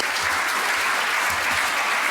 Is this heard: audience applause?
yes